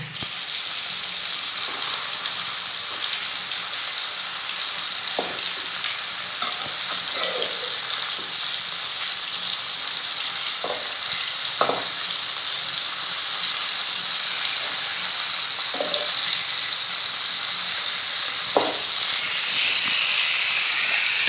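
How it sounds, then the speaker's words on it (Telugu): Tomatoes frying in a pan for tomato chutney, a steady loud hiss of oil and steam running throughout, close by, with a few scattered knocks and scrapes from stirring and no speech. "టమాటో అయితే మంచిగా వేగినాయి."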